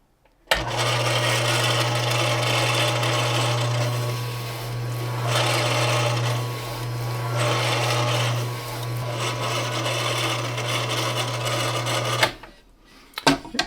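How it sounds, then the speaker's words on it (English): An electric meat slicer cuts beef for jerky, giving a steady motor hum with a raspy, rubbing scrape from the blade. It runs continuously and close for about twelve seconds, with slight swells in intensity, then stops. "we've got all of our meat off of the slicer there"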